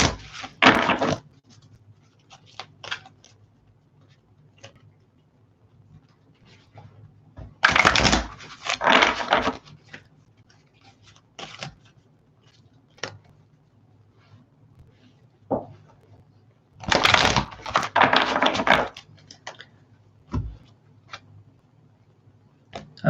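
Tarot cards are shuffled by hand in three short, brisk flurries of riffling and slapping, with long, nearly silent gaps between them.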